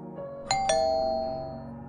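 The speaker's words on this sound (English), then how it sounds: "the doorbell rang" A two-tone ding-dong doorbell chimes once, the bright tones ringing out clearly and fading slowly against a quiet indoor background.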